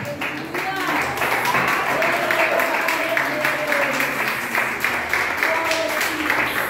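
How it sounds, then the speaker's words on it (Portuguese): A church congregation breaks into joyful applause for Jesus during a service, a sustained, fairly loud wash of clapping from many hands, with voices and a sung or spoken line over it. "Dá uma salva de palmas bem alegre para o Senhor Jesus."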